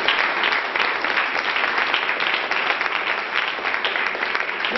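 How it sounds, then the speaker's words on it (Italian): Sustained audience applause at a poetry award ceremony, dense and steady clapping from a full room throughout, no voices over it. "se magari fate un applauso io prendo fiato"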